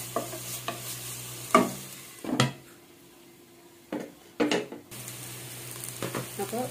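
Ginger paste fries in a pan with a soft, low sizzle under a few loud spoon scrapes and knocks against the metal, then a louder burst of frying toward the end, and no voices.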